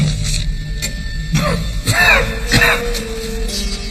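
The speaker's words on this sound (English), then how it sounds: "your cough is getting worse." A throaty cough and throat clearing from a man in a period drama, a few rough bursts spaced across the moment, close and fairly loud over a quiet room tone.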